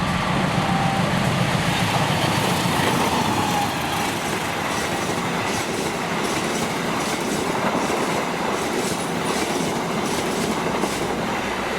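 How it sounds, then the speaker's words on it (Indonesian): Saunggalih 153A passenger train with a replaced locomotive passing close by, a loud continuous rush of wheels and rail noise with rhythmic clatter running steadily throughout. "Barusan kereta api Saunggalih 153A yang sudah diganti lokomotifnya ketika di stasiun Purwokerto."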